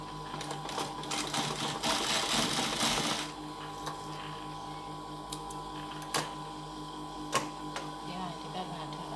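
Sewing machine stitching fabric for a Burmese htamein waistband, a dense rapid mechanical whirr in a short burst near the start, then quieter room sound with a few sharp clicks, with speech around it.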